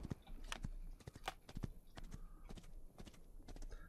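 Horse hooves clip-clop in a steady, fairly quick rhythm in the video game GRIT, close and moderately loud, with sharp regular hoof strikes throughout.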